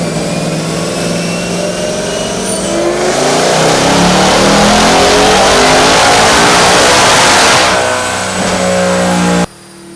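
A Whipple-supercharged S650 Mustang engine roars on a dyno, rising steadily and loudly to around 8,000 RPM before cutting off abruptly.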